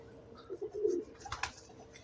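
Soft, low coos of wire-breed pigeons, a few short rounded calls close together, over a quiet background with a brief brighter chirp near the end.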